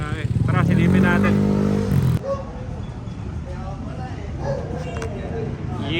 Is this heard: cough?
no